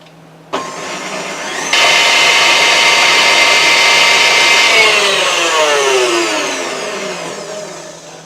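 An electric mixer churns cookie cake batter with a loud, steady whirring drone that starts abruptly, steps up in intensity, then slowly winds down in pitch toward the end.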